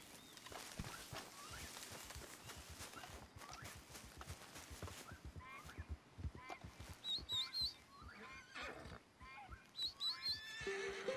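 Horse in the Red Dead Online video game, with hooves clip-clopping near and steady, then loud neighs and whinnies toward the end over faint bird chirps.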